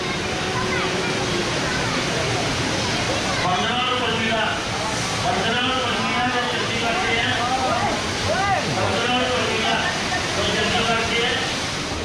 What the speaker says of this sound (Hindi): और ये देखिए रास्ते में कितना सुंदर झरना बह रहा है।